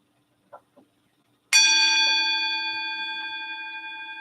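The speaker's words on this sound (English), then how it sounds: "If you heard that bell" After two faint taps, a single bell is struck once and rings out loud and clear, its bright tone slowly decaying over several seconds.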